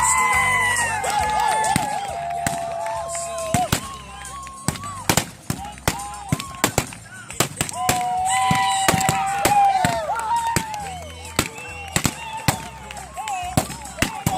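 Gunshots at a mounted shooting show, a long string of sharp, loud cracks at irregular intervals over a crowd with shouting and children's voices.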